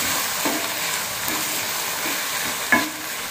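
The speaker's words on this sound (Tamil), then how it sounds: "ஒரு தக்காளி நல்லா பழுத்த பெரிய தக்காளியாக போட்டுக்கலாம். இதே மாதிரி நல்லா வதக்கி விட்டுட்டு" Ripe tomato sautéing with onion, ginger, garlic, green chili and spices in a pan, an even close sizzle marked by a few soft spatula scrapes and one sharper clink near the end.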